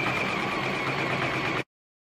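A sewing machine runs in one steady, even burst, stitching elastic onto a bra, then cuts off abruptly into silence.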